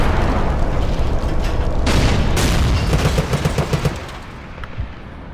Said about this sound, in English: Somebody fired a rocket at me.